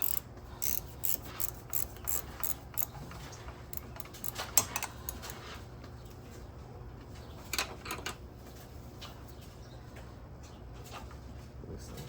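A ratchet wrench loosens a 12 mm bolt near the alternator of a 2004 Honda Civic. Rapid bursts of close clicking come first, then sparser clicks over a low background, with no voices.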